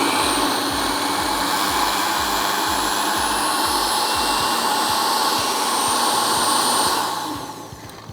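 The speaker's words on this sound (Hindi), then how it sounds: "थोड़ा सा ब्लेंड करते हैं।" A blender whirs chickpeas into batter for a flourless chocolate cake. It gives a loud, steady motor roar with a rhythmic low thumping underneath, then winds down near the end.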